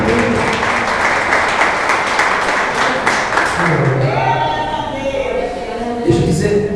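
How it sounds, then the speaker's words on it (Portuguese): A church congregation breaks into loud, sustained applause that fills the room, and the clapping blends with voices and some music toward the end. "Você pode dar uma salva de palmas para Jesus?"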